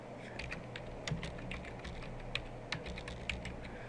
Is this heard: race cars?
no